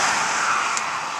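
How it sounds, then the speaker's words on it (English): Traffic on the Trans-Canada Highway south of Wawa, Ontario, passes beside a roadside rock outcrop: a steady, loud tire-and-engine hiss from a passing vehicle that fades slightly toward the end, with no voices. "as you can tell by the traffic"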